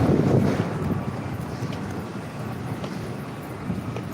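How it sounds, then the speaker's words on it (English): Steady wind buffeting outdoors, a low continuous rumble that is strongest at the start, then settles into a constant gusty roar. "it's windy as shit outside"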